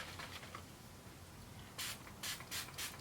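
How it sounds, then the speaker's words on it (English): Goddess Glow fixing spray misted from a pump sprayer in a few short, crisp hissing bursts, close by, with no talking. "I'm going to put this on. Goddess Glow Fixing Spray."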